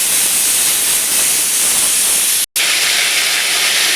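Coriander masala of green chilies, coriander seeds and cloves sizzles loudly as it fries in a pan for hotel-style coriander chicken fried rice, a continuous close hiss with one brief dropout.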